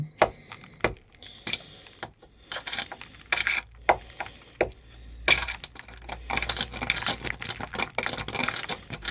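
Bursts of harsh, rattling mechanical grinding as a power drill strips rust from a Vauxhall Vectra B, in uneven spurts, starting and stopping repeatedly, then running more continuously near the end, close by.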